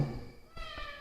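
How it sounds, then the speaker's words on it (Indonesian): A cat gives a brief, soft meow, fairly quiet and close, with no one speaking. "Tadi dikasih makanan nggak mau, sekarang meong."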